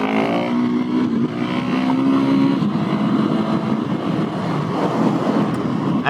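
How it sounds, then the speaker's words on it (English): A Husqvarna 701SM motorcycle with a Leo Vince Nero exhaust is heard from the rider's position as the engine runs continuously, its note rising and falling with the throttle under steady wind noise for about six seconds. "So now I can tell what I'm doing with just the engine sound."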